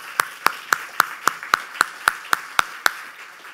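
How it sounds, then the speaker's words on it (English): Hands clap in a steady, even rhythm at a panel discussion, about a dozen crisp claps close by with no talking. "let's give Hollie a round of applause"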